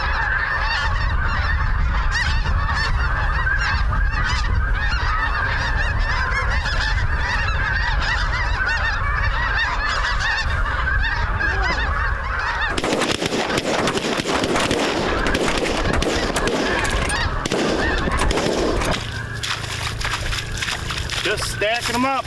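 Several flocks of snow geese honk in a dense, continuous clamor over a Midwest levee during a hunt, the calls loud and layered throughout, with the mix shifting and growing busier partway through.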